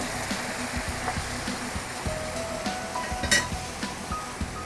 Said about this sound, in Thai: ตั้งกระทะ นำกะทิ เฉพาะหัวลงไป เคี่ยวให้แตกมัน